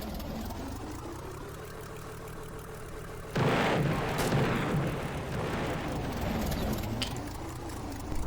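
A low engine-like hum runs throughout, then a loud booming blast erupts midway, followed by rumbling and a couple of further bursts of cannon fire in the Roblox video game.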